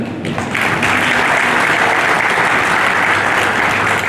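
Loud, sustained applause from a large audience, dense clapping that swells in quickly and holds steady throughout.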